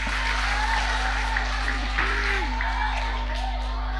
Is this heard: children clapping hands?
yes